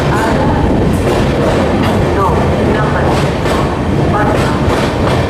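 Amrit Bharat Express passing through Dongargarh station without stopping, with a loud rolling rumble of wheels on track, repeated clacks over rail joints and a brief squeal, continuous and close.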